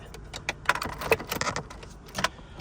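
Car keys jangle near the microphone in a quick series of metallic clinks and rattles while the owner checks on a Nissan S13, with no talking over the sound.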